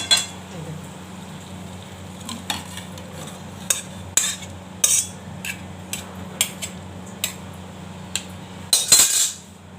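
A spoon scrapes and clinks against a pan while vegetarian vegetable curry is served out, a series of short sharp metallic taps and scrapes spaced through the clip with a low background hum.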